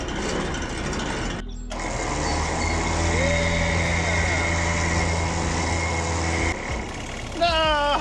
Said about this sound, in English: I'm gonna try it out and see if it works with my wireless winch control here.